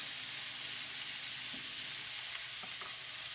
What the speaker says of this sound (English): I took my shrimp, put it in the pan.